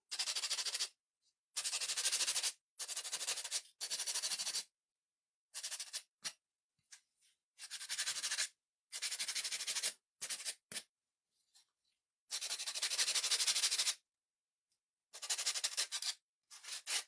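Coarser grit sandpaper rubs back and forth on a scarecrow and pumpkin fall decoration, in close, rasping bursts of one to two seconds separated by short silences.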